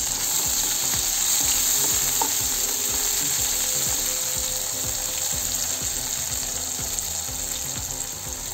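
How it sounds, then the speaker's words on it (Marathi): Tomato is stirred into onions frying in a pan for Marathi gavar bhaji, giving a steady sizzle with repeated scraping and clicking from stirring at close range, and no voices are heard. "आता आपण यात टोमॅटो टाकून घेऊ. टोमॅटो मिक्स करून घेऊ."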